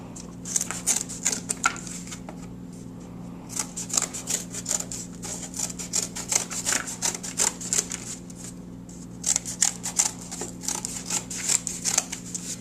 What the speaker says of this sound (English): I'm going to cut out my triangle for the top